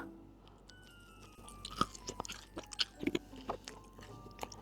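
Someone bites into hard Dubai chocolate daifuku and chews it up close, giving a run of crisp cracks and crunchy chewing bursts against a quiet background with no talking.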